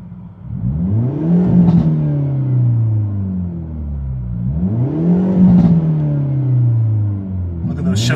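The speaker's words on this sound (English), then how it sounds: "so let's give it some revs" A 2022 Hyundai Elantra N engine revs in two strong, rising surges that fall back to idle, close and loud, with a third blip starting at the end.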